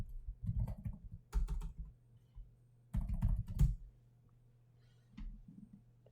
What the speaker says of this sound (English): If we type in psychology.